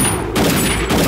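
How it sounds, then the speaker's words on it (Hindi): Loud burst of gunfire inside a police lockup, a sharp report followed by a broad, sustained crack of noise lasting under a second. "अरे गोली चला दी क्या?"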